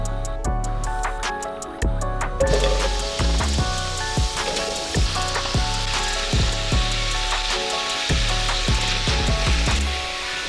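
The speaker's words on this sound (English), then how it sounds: "I'm gonna get everything sauteing together in a big saucepan with some sesame oil." Celery, ginger and mushrooms sauté in sesame oil in a big saucepan, giving a steady, loud crackling sizzle with repeated knocks of a utensil against the pan, and no talking.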